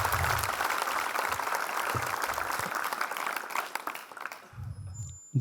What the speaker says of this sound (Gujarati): જોરદાર તાળીઓથી એમનું સ્વાગત કરીએ